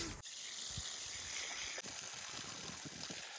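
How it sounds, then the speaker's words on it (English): Water is poured onto a freshly transplanted artichoke plant in a permaculture garden, making a quiet, steady gushing stream that runs unbroken for a few seconds. "Now we'll just get a bit of water onto it."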